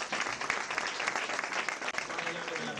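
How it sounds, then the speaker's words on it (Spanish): Dense crowd applause for the women at a Cruz de Mayo celebration dinner, steady and moderately loud throughout with some voices mixed in. "un aplauso para todas las mujeres"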